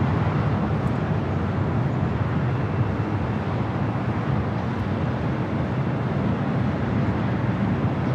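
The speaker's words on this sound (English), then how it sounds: "This is Air France Flight 23 taking off to Paris on the 777-300ER" An Air France Boeing 777-300ER takes off from LAX, its jet engines a loud, steady broadband roar with deep rumble, unbroken for the whole stretch.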